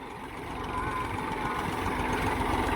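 A farm tractor idles steadily with a continuous low diesel rumble, fairly close and even in loudness, with no voices over it.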